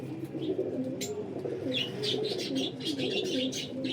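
Parwazi flying pigeons, a golden cross, coo in soft, rolling low phrases close by, joined by a scatter of brighter chirps from other birds, with no voices.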